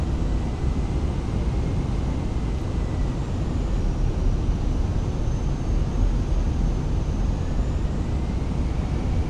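A Delta Airlines A320 lands at Salt Lake in Microsoft Flight Simulator, with a constant, even engine and airflow drone holding steady throughout. No distinct touchdown thump stands out and no one talks.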